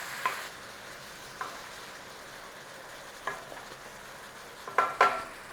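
Apples with sugar and spice cook quietly in a pan under a soft steady sizzle, while a utensil scrapes and stirs in a few sparse, brief knocks.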